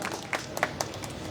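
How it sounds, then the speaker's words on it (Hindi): An audience at a Republic Day speech gives brief, sparse applause, scattered claps standing out over a low murmur. "एक बार जोरदार तालियां"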